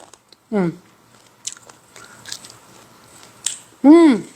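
Crunchy bites into stir-fried garlic scapes with barley shrimp, a few short crisp crunches near the mic with a voice speaking between them.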